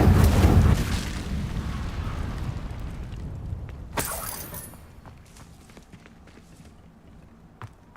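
An Incendio fire spell cast in Hogwarts Legacy, a loud rumbling whoosh that fades, followed by a sharp bright crackle and scattered light footsteps and clicks in a quieter space.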